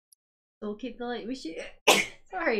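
A single sharp human sneeze bursts out suddenly and loudly in the middle of casual conversation, with talking just before and right after it.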